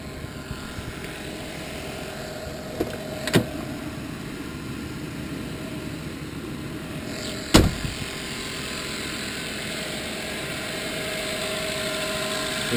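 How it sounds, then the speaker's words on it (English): A police canine unit car sits idling, its air compressor running steadily in the background under a smooth, quiet engine hum, with two brief sharp clicks breaking the otherwise even drone. "You can hear the air compressor running in the background."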